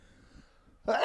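A single sneeze bursts out suddenly near the end, loud and close after a quiet stretch, during a casual podcast conversation.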